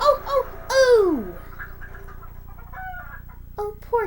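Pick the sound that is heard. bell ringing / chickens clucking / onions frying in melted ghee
chickens clucking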